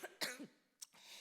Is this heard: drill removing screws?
no